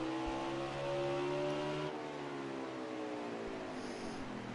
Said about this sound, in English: Yeah, listen to that engine sound.